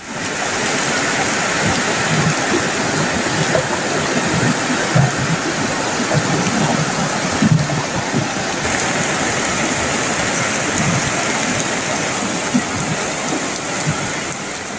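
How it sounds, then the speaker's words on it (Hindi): Floodwater surges down the swollen Dhangarhi drain after a cloudburst in Ramnagar, Uttarakhand, a loud, unbroken roar of rushing water that holds steady throughout, with no voices over it. "पानी का वेग देखिए आप, स्पीड देखिए, किस तेजी से ये पानी बहता चला जा रहा है"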